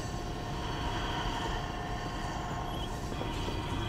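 A 1.5-mile-long Lakeland & Black Valley coal train rolls past, heard as a steady, loud rumble of railcars with rolling wheel noise and faint metallic squeal, continuous with no talking.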